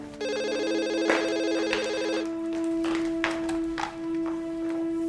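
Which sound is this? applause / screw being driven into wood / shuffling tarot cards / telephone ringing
telephone ringing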